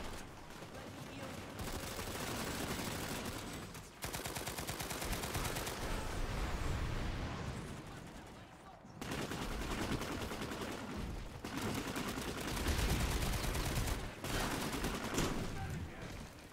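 Dense, continuous video-game gunfire from Planetside rattles in rapid overlapping bursts, loud and close, with brief lulls around four and nine seconds before the shooting surges back.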